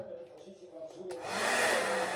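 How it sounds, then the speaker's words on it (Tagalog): A hair dryer switches on and blows steadily with a loud, continuous broadband whoosh, preceded by a quieter lead-in. "Ngayon, ibo-blower ko."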